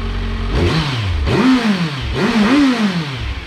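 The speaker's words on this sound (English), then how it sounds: "don't ever rev a cold engine" A warmed-up motorcycle engine revs up twice, pitch climbing then falling back to a rumbling idle, loud and close.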